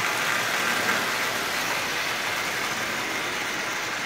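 Marx 490 toy train locomotive running on its track, a steady, fairly faint whirring and rattling hum that carries on evenly without voices.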